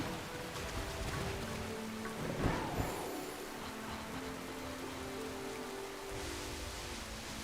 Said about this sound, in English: obviously the game is struggling with the rain here right now